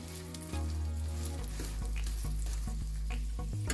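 A dhaba-style keema paratha fries in ghee on a hot pan, a loud continuous sizzle that jumps up about half a second in and is joined by low, intermittent scraping and knocking from handling the paratha.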